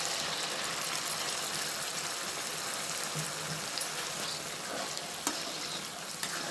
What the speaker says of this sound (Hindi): प्याज और टमाटर को हम अच्छे से भून लेंगे